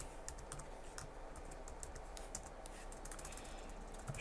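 Rapid, steady computer-keyboard typing while entering Arduino code for a 2.5W laser module, with many quick close clicks running continuously over a low background hiss.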